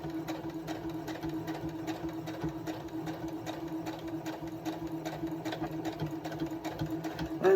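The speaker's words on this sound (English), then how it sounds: "I'm backstitching." A sewing machine stitches quilt pieces together, its needle clattering in a fast, even rhythm of close, steady stitching with no pauses and no talk.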